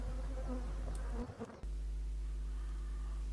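Honeybees buzz around beehives in a traditional apiary, a dense continuous hum close by, briefly cut by a short rustling disturbance partway through.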